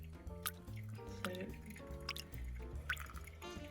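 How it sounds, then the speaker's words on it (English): Water drips and trickles through pour-over coffee grounds into the vessel below, soft irregular drops and wet squishes close by, with faint background sound underneath. "you just need to wait for this water to pass through and then you're done. Your coffee is brewed."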